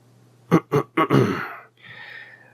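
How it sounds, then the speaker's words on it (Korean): A man clears his throat three times in quick, close succession, then gives a longer rasping grumble, followed by a faint breathy tail. "하지만 아버님은 그런 어머님의 모습이 살짝 못마땅한지 연신 헛기침을 하셨어요."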